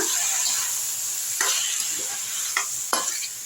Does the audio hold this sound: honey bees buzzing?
no